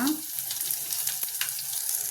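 Crushed garlic, curry leaves and asafoetida frying in hot oil for a tempering, giving a steady soft sizzle with light crackles throughout, heard alone without talk.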